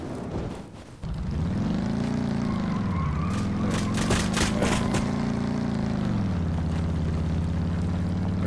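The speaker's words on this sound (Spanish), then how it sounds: "Ah, si es un helicóptero chiquitito, sí." A small helicopter in a video game flies close by, its steady rotor drone rising and falling in pitch as it passes, loud and continuous after a short quieter start.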